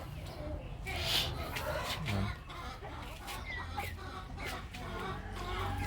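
A show-type Rhode Island hen that has started laying clucks in short bursts over a steady farmyard background, with soft voices faintly present.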